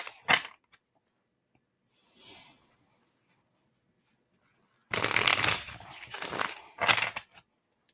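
Tarot cards are shuffled in a few bursts: a brief riffle, a soft rustle, then a longer, louder riffling shuffle up close, with no talking.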